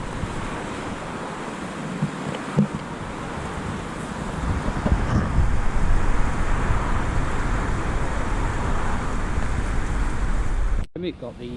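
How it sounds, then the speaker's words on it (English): On a narrow moorland road near Widecombe and Buckfastleigh, a car approaches and passes amid heavy wind noise and rushing water off the moor, swelling midway before fading, ending in a sharp handling knock. "Oh, there's a car coming."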